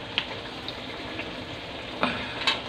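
Chicken sautés in a pan for binakol, giving off a soft, steady sizzle with a few small pops and stirring clinks, close and fairly quiet.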